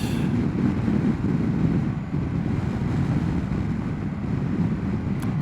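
Heavy wind rush buffets the microphone while riding a Harley-Davidson Pan America motorcycle at speed, a steady, loud, broadband roar with low rumble lasting throughout, no talking.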